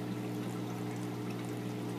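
A pump draws water in a 40-gallon breeder aquarium tank, giving a steady, quiet gurgling flow with a low hum beneath it, unbroken for a couple of seconds.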